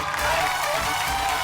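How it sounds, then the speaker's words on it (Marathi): Audience applause at a Marathi women's game show, a dense steady wash of clapping heard at a moderate distance through the whole moment, with no clear voices. "एकदा जोरदार टाळ्या होऊन जाऊ दे."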